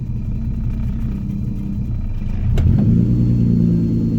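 A Nissan Maxima engine just refitted with new injectors and a fuel filter idles steadily, then cranks and fires up with a sharp catch and settles into a louder, rougher idle, close and loud throughout.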